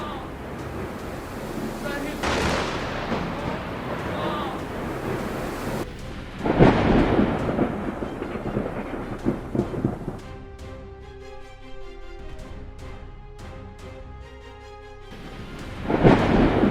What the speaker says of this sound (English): Lightning strikes a building in Campbelltown as a violent storm hits a bright flash